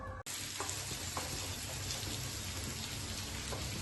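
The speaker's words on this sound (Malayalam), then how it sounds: "നമ്മൾ ഉള്ളി വറുക്കുകയാണ്" Sliced onions fry in hot ghee for ghee rice, giving a dense, even sizzle with faint crackles that carries on steadily after a brief cut near the start.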